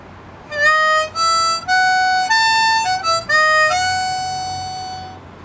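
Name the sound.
harmonica playing a variation of a song intro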